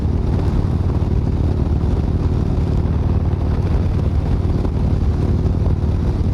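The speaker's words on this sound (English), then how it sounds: "Damn, it's windy. You see the wind blowing all that stuff?" Strong wind roars steadily into the microphone, a dense low rumble with no pauses and no voices.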